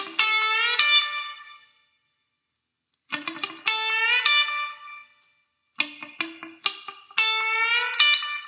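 An electric guitar with a distorted, effected tone plays the second half of a song's solo, heard as three short bursts of quick picked phrases with ringing sustain and brief silences between them.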